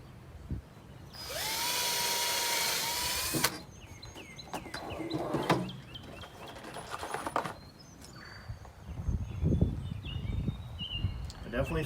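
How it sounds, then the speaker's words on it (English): A power drill whines loudly and steadily for a couple of seconds drilling wood for a bird feeder, then stops; afterward faint birdsong, rustling and handling noises follow, with a low rumble near the end. "I'm going to go ahead and drill them."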